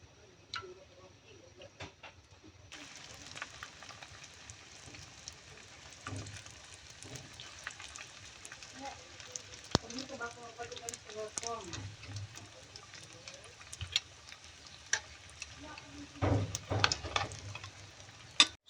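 Squash lumpia frying in cooking oil in a pan, a steady close sizzle with crackling pops and occasional utensil scrapes, while a person talks over it.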